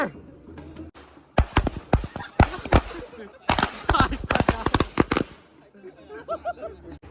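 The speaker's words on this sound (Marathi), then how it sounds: "सरळ फटाके फोडता येतात ना आपल्याला" Firecrackers burst on a road during a Ganesh immersion in Konkan, in rapid, uneven volleys of sharp cracks, some close and loud, with quieter pauses between bursts.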